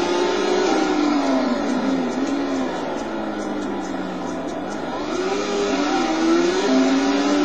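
Race car engine in Total Immersion Racing on the Sebring circuit, a loud continuous drone whose pitch rises and falls through gear changes and throttle swells, sweeping up strongly near the end.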